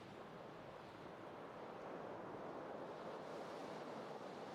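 Hazy ocean surf from the video game Disco Elysium, a steady soft wash of waves and wind with no talk, faint and continuous throughout.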